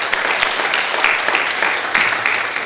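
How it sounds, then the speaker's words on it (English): A room full of people at a sermon breaks into steady applause, a dense wash of clapping that holds at an even level throughout, with no talk over it. "you deserve a round of applause for that"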